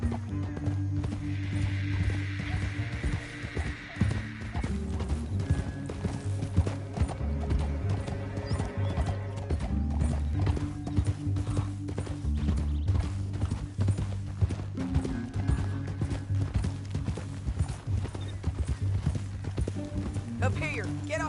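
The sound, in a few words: horses' hooves, from the video game Red Dead Redemption 2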